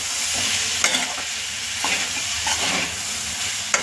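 Masala pasta with vegetables stir-frying in oil in a pan, a steady close sizzle broken by several scraping stirs of the spoon, with no talking.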